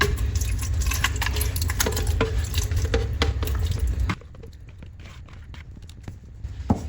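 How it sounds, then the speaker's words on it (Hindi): Blended muskmelon drink pours steadily and loudly into a jug for about four seconds, then fades to a quieter trickle with scattered drips and light clinks. "अब मैं इसमें जग में डाल दूँगी"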